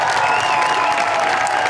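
Studio audience applause welcoming a guest onto a Pakistani TV talk show stage, a steady dense wash of clapping and crowd noise filling the whole moment with music faintly beneath.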